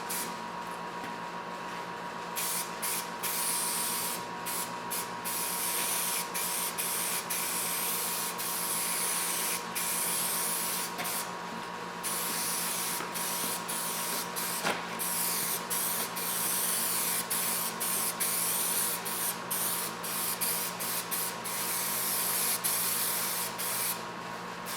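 An aerosol spray paint can spraying a truck door panel during a restoration, a long continuous close hiss with only brief pauses between passes, no voices present.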